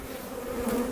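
Honey bees hum steadily inside a hive during an inspection of a Demaree manipulation, a close, continuous buzzing drone with no voices over it.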